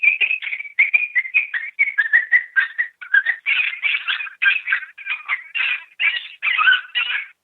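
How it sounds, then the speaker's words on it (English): A FoxPro Shockwave electronic predator call plays a Coyote Pup Distress recording: a continuous string of high, wavering yips and whimpering cries in quick bursts, loud and steady across the whole stretch with no talking. "You play this sound, coyotes will react to it, and this is Coyote Pup Distress 3."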